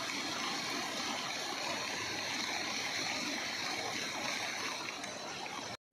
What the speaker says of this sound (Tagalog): Ayan, sobrang ragasa na po yung tubig dito sa amin